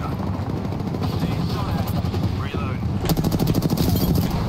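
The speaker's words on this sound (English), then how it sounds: "They're getting shot at." Rapid automatic gunfire in Apex Legends, a steady burst near the end over a continuous rumbling background of game noise and combat sounds.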